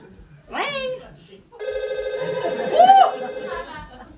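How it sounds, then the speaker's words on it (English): A mobile phone rings with a warbling electronic tone at moderate volume, overlapping with what looks like a rising vocal sound just before it. "It's ringing."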